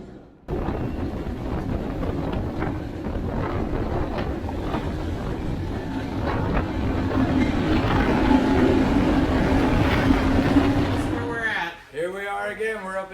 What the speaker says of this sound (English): we're up at Tannery now in the bike train